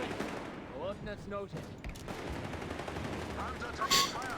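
Machine gun fire in Company of Heroes 3 as a Panther faces a machine gun, bursts of gunfire under a caster's ongoing commentary with game effects mixed in.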